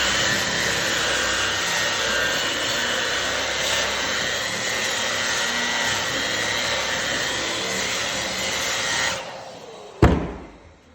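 A Makita 9741 wire brush sander works across wooden boards, giving a steady, loud whirring drone with brushing texture that runs unbroken for about nine seconds, then winds down, followed by a single sharp knock.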